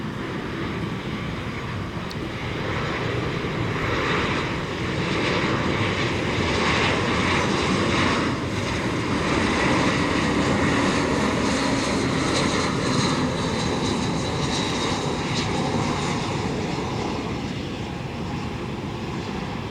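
An Airbus A321 airliner lands at Tan Son Nhat airport, its engines a loud sustained roar that swells and slowly fades over about twenty seconds, with no voices.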